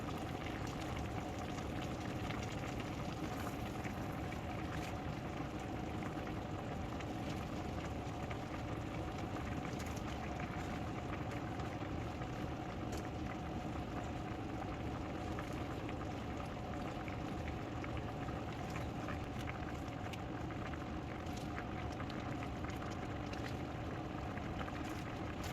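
Chicken tinola soup with spinach simmering in a pot, giving a steady, even bubbling and burbling hiss close by that runs unbroken throughout with no voices.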